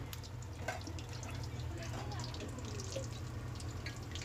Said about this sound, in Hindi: इसी तरह हम सारे वड़े तल लेंगे।